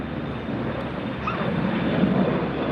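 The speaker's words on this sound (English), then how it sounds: "This is the Lufthansa A380 with American going out at the same time." Jet airliners at LAX, a Lufthansa Airbus A380 alongside an American plane departing at the same time, give a steady broad engine roar that swells slightly toward the end, with wind noise over it and no voices.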